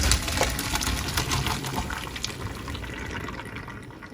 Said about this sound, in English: So I'm going to pour it out in my colander.